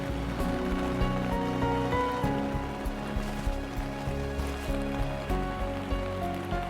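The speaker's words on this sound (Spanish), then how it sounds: "¿Escuchan? Está lloviendo." Steady rain pattering on surfaces on the Inca Trail to Machu Picchu, a continuous dense hiss with a low rumble underneath and no talking.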